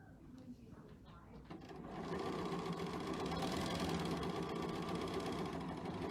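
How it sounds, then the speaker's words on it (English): A sewing machine runs a straight stitch at a sewing center class. It starts quietly, then settles into a steady, loud, continuous whirring hum with some voices underneath. "Now you see, that's just straight stitching."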